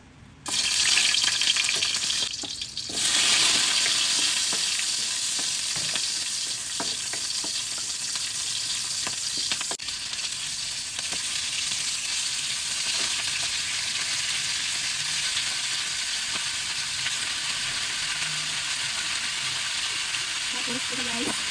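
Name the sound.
pork being sautéed in a pan before boiling for nilaga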